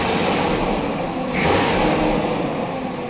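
A Jaguar XJC engine runs after its carburetors are balanced, with a steady, smooth, close drone that rises slightly in the middle, heard alone without talk.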